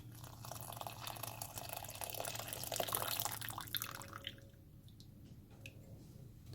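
Boiling water from a kettle pours and sloshes softly as it is stirred into a flaxseed wrap mixture, with faint drips and a wet, squishy churning at low volume.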